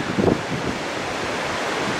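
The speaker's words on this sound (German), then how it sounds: "Was mir heute so ein bisschen hier das Filmen schwer macht, ist halt der Wind." Wind rushes against the microphone beside the lake at Waren on the Müritz during a bike ride, a loud continuous roaring buffet with a brief gusty swell at the start.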